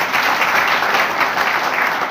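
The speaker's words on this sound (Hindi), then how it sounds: "उस बच्ची के ज्ञान की अनुमोदना करें आप तालियों से" Audience applause at a Jain scripture discourse, a steady wash of clapping from a seated crowd honoring a young girl, continuous and fairly loud for its full two seconds with no voices over it.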